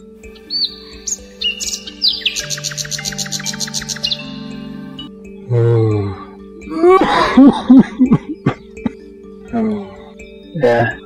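Several dry coughs sound close by after a stretch of bright bird chirping, followed by throat clearing and a few scattered later coughs.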